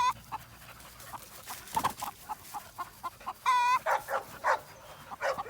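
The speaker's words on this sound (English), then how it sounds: "You can see by the sound of her bark, she wants them." A young American Bulldog pup barks and yelps in quick, excited bursts at chickens clucking nearby, the barking close and insistent throughout.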